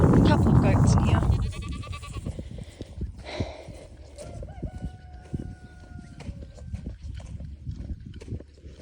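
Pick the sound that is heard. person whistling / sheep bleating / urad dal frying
sheep bleating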